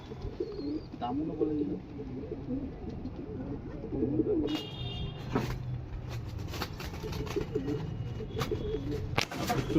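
Pigeons coo repeatedly nearby in a low, throaty rolling rhythm, several birds overlapping, with faint traffic and brief clattering wing or handling noises in the background.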